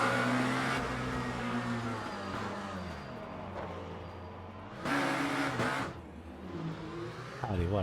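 Lamborghini V8 race car engine in the Le Mans Ultimate racing game at Imola, a steady loud drone with a few surges in revs, heading into the pits while someone talks over it.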